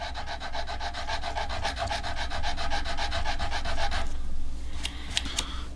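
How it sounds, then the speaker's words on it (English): Steady back-and-forth rubbing of 320 grit sandpaper on a guitar finish during a repair, a rhythmic rasping that runs for about four seconds before a few short sharper scrapes follow. "So I've got some 320. We'll just sand this down."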